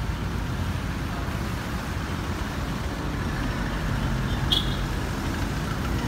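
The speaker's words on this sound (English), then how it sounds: "There's usually lots of traffic, you know, around this area." Steady road traffic in Banjul, The Gambia, with a continuous low rumble of passing cars and trucks, an even wash of engine noise throughout and no voices over it.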